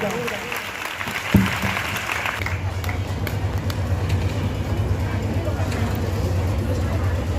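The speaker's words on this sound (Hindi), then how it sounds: "मैं स्वयं इनका सम्मान करूंगा और एक बार ताली बजाकर बहुत जोरदार" Applause at a Teachers' Day felicitation of teachers held by the Salasar Sundarkand Jan Kalyan Samiti, a steady crowd clapping that runs throughout, with a sharp thump early on and voices mixed into the din.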